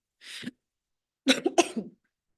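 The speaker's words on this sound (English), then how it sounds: "I've got a little bit of a cough." A single cough, then a short burst of two or three harsh coughs close to the mic during a commission meeting, with no talking.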